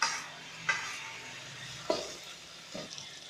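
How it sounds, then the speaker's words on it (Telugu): Chopped tomato pieces sizzle in hot oil with turmeric in a pan, with a few sharp stirring scrapes over a low steady frying hiss. "ఇలా పసుపు వేసుకొని కలిపిన తర్వాత మనం తరిగి పెట్టుకున్న టమాటా ముక్కల్ని వేసుకొని"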